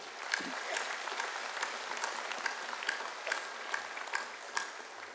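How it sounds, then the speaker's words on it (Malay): An audience in a large hall at a Malaysian UMNO political assembly gives sustained applause, a dense, even wash of many hands clapping with a few sharper claps standing out. "saya ingin tuan-tuan memberikan tepukan kepada pihak urus setia ya"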